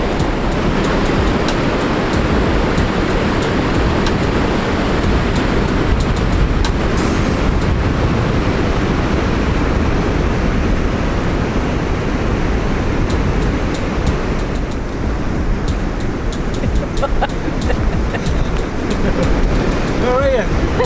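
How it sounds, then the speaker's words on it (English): Surf and strong wind at Waihi Beach, New Zealand, make a loud, continuous wash of breaking waves and buffeting wind noise lasting throughout, with faint voices at times. "the wind's fairly blowing but the surf's up"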